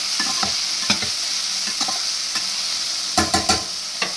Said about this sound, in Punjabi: ਕਾਫੀ ਹੱਦ ਤੱਕ ਜਿਹੜੇ ਮਟਰ ਨੇ ਉਹ ਭੁੱਜ ਗਏ ਨੇ